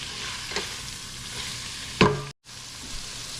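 Beef, onions and garlic for American goulash sizzle softly in a pan while a utensil scrapes and stirs, with a sharp clatter near the end followed by a brief cut.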